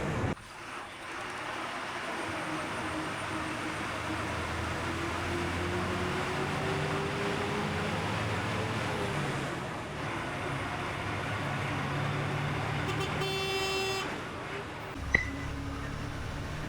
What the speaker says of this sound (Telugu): బస్సు స్టార్ట్ అయింది, నెమ్మదిగా వెళ్తూ ఉందన్నమాట.